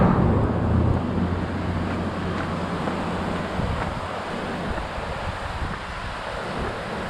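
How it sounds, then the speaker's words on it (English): Steady broadband rush of a waterfall beside a road on a long-distance hiking trail near Metaline Falls, a continuous roar heard close and alone, with no voices. "Pretty cool waterfall."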